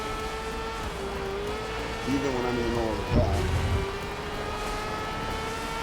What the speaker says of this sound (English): I have the engine sounds turned all the way up